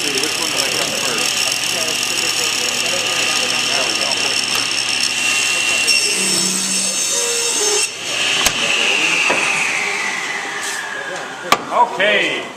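A power saw cuts the edge of a wooden board for a storage chest, its steady high whine running loud and continuous for most of the stretch, then winding down toward the end with a few knocks as the cut finishes.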